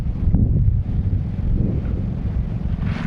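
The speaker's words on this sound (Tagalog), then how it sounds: "ang ihip ng hangin" Strong northeast monsoon wind at a fishing spot buffets the microphone with a constant low roar and rumble, no voices, just the gusting noise throughout.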